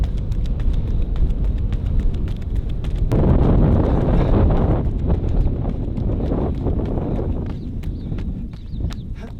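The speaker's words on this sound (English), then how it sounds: "Like that wind came out of nowhere." Wind gusts outdoors during a pre-race running workout before a half marathon in New York, a loud broadband rush that swells strongly partway through and keeps buffeting the microphone, with no talking.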